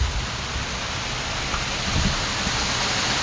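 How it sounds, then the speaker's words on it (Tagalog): Steady, dense roar of heavy rain pouring down during flooding in Negros, a continuous wash of noise with no voices. "Grabe ka kusog. Nan, kusog kay ulan dire."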